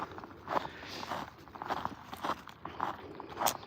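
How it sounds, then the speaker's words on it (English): Crunching footsteps in snow while walking with dogs outdoors, a rhythmic series of soft close steps roughly every half second over a low background hiss, with no talking. "I hope the sound of the footsteps is coming through on the audio as well."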